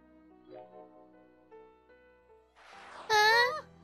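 A cat in an animated Buddhist film gives a loud, wavering meow near the end, after quiet background music and a soft rustle.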